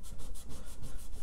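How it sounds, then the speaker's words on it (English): A baby wipe rubs paint off painted wood furniture in quick, steady back-and-forth strokes, close up and alone, making a rhythmic scratchy swishing about eight times a second. "Let's go in and wipe some of this off so that some of this wood peeks through"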